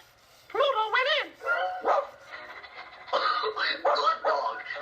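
Pluto the cartoon dog barks and yips in a quick series of close, lively vocal bursts, apparently a voiced character imitating a dog.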